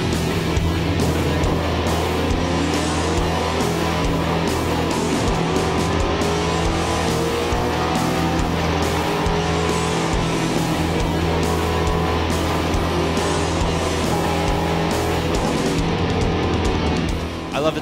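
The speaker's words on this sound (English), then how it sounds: "I get it in first gear and get up on the rev limiter, and when those red lights go out," A GT race car in the Pirelli World Challenge sits in first gear, engine held loud and steady at the rev limiter for a standing start, a continuous close, buzzing roar with faint tire noise and no talk.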